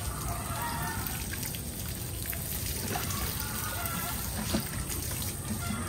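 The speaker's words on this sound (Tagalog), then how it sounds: "Binigyan nyo lang po hanggang tumulo po sa drainage, sa butas, yung tubig." Water drips and trickles from a freshly watered potted plant with pebbles on the soil, running out of the drainage hole, a faint patter under a steady background hiss with occasional distant birds.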